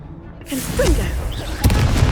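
A Confringo blasting spell explodes in Hogwarts Legacy: a heavy boom arrives with a swirling whoosh, the rumble sustains, and a second thump lands near the end.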